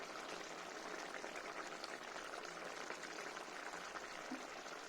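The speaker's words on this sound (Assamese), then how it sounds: "এয়া মাছ উতলি আছে।" Fish curry simmers in a covered pan over a medium flame, a soft, continuous bubbling hiss that stays even and fairly faint throughout, with no one speaking.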